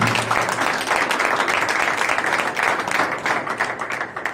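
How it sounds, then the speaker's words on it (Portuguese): Members of a church congregation applaud together in a worship service, a dense, even wash of clapping that carries steadily throughout with no speech. "Vamos aplaudir ao Senhor Jesus"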